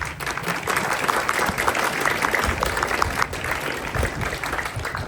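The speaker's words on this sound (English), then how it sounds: "give another round of applause for Dede Bartlett" Steady applause from a crowd at a town domestic violence awareness proclamation event in New Canaan, sustained and even throughout without pause, with no voices standing out.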